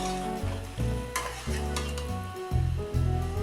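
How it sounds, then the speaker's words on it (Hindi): A spoon stirs sizzling egg and potato curry with crushed kasuri methi in a hot pan, loud continuous frying hiss broken by scraping strokes and clattering every second or so, close by. "अच्छे से मिक्स करेंगे।"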